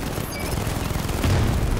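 Gunfire in the video game Batman: Arkham Knight, a rapid, dense burst of shots with low booms growing louder toward the end.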